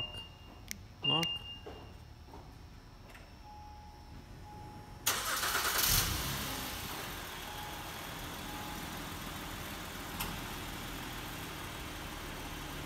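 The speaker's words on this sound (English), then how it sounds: "2010 Acura MDX with 3-lock remote car starter." A 2010 Acura MDX started by remote starter through its factory key fob: a few short beeps and chirps, then the engine cranks and catches with a loud surge before settling into a steady idle, with speech over it.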